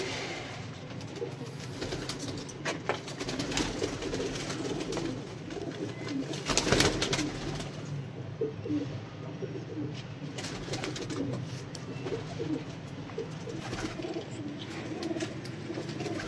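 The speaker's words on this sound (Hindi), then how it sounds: "ये देखिए माशाल्लाह फुल प्योर कबूतर है।" Sialkoti pigeons coo softly in a loft with repeated low calls. A louder burst of noise comes midway, and faint background sounds continue throughout.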